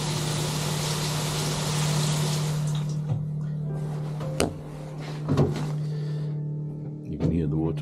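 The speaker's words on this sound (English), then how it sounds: "You can hear the water pump running." An electric water pump aboard a sailing catamaran hums steadily at a low, constant pitch, with intermittent clicks and knocks on top and a broadband wash that fades after the first few seconds.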